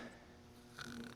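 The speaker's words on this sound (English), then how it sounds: "I heard snoring" A game character in Deadly Premonition snores once, a soft, short nasal snore heard faintly over quiet background tone.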